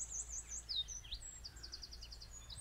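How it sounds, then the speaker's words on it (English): Birdsong on a spring day in County Fermanagh: faint, high chirps and short trills, including a quick run of repeated notes, over a low steady background rumble, with no voices. "All the bird song, which I hear today in a beautiful spring day in County Fermanagh."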